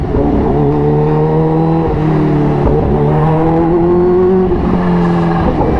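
Kawasaki Ninja H2 superbike ridden through city traffic at night, engine loud and close with rising and falling revs across several gear changes, steady drone throughout.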